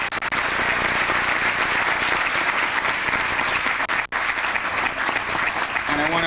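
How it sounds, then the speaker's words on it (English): An audience at a youth sports volunteer recognition awards ceremony breaks into sustained, dense applause that holds steady and loud for several seconds before a voice begins speaking at the end. "Big round of applause for John O'Connor's wife, Carolyn"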